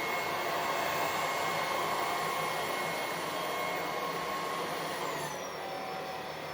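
A cordless stick vacuum cleaner running steadily at close range, producing a constant high whine and airy rush with no voices over it.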